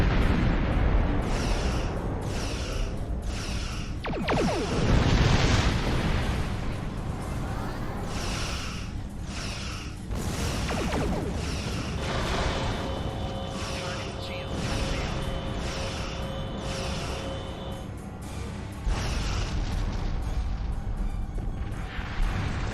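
Torpedo explosions go off in Star Trek Online space combat, a run of heavy booms and bursts over a dense rumbling battle bed, with several sharp hits and a steady electronic tone partway through.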